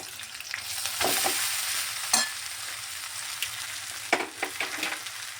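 Soaked flattened rice (chira) stirred in a hot pan, a soft continuous sizzle broken by several scraping strokes of a spoon, close and without talk.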